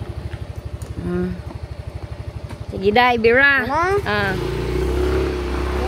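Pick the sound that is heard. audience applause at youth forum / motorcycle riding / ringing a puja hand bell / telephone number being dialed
motorcycle riding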